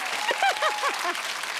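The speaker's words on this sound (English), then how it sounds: "It's amazing what you get a round of applause for" A television studio audience at a comedy panel show applauds, a bright wash of clapping laced with a few rising and falling vocal whoops, held at a steady level for under two seconds.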